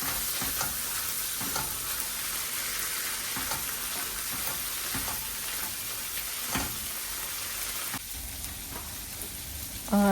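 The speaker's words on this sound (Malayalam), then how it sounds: "നമ്മൾ വേവിച്ച് വെച്ചേക്കുന്ന ചിക്ക് പീസ് അതിലേക്ക് ആഡ് ചെയ്യുക. എന്നിട്ട് അതൊരു 5 മിനിറ്റോളം സോട്ട് ചെയ്തെടുക്കുക" Cooked chickpeas sautéing in a hot pan, a steady close sizzle and crackle that carries on without pause, with occasional stirring scrapes and no talking.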